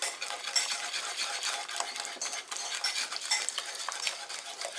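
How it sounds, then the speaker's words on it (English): A whisk stirs heavy whipping cream into a simmering sundried tomato cheddar bisque, a steady close-up scraping and sloshing against the pot for about five seconds, with no talking. "Next ingredient, heavy whipping cream. You just want to whisk this in."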